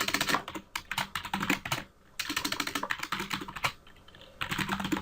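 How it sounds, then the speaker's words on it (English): Rapid clicking of a computer keyboard during Java programming, with fast irregular keystroke bursts broken by a brief pause. The keys are close and moderately loud, with no talk. "my typing today"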